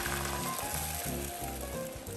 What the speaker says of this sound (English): When sausages are ready, it's time to add our omelette base.